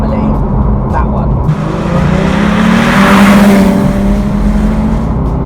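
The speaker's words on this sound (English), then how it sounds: "a naturally aspirated 500 horsepower rear wheel drive Porsche 911 with a manual gearbox" A naturally aspirated 500-horsepower rear-wheel-drive Porsche 911 with a manual gearbox revs hard, its engine note rising and swelling loud and close, then holding steady before cutting off abruptly.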